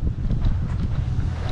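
Steady wind rushing and buffeting against the microphone outdoors on a hot day by the sea at Captree, a low constant roar with no voices.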